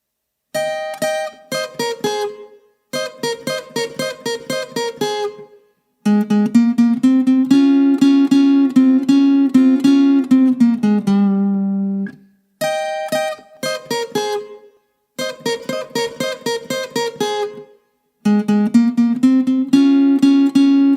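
A requinto guitar plays a norteño riff at medium tempo, phrases of quick plucked notes broken by short pauses and sustained lower runs, loud, close and alone with no voice.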